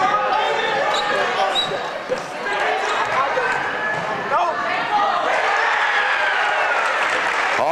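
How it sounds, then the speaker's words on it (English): Crowd buzzing in the stands at a boys' high school basketball game between Northwestern and Conneaut, a steady loud roar of cheering and chatter with scattered ball bounces and a commentator talking over it. "Everybody's buzzing in the stadium here."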